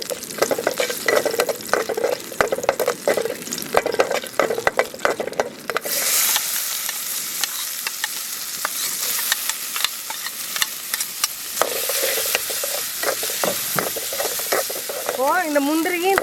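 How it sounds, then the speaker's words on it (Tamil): Cashews and grated coconut roast in a pan for Karthigai appam, a close, steady scraping stir with soft sizzle running throughout, getting brighter and louder after the first few seconds. "இந்த முந்திரியும் தேங்காயும் இந்த வறுத்தாச்சுங்க, வறுபட்டுருச்சு."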